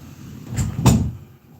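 A noisy indoor door opening or closing, giving two scraping, clattering bursts about a third of a second apart over a low background hum, with no talk.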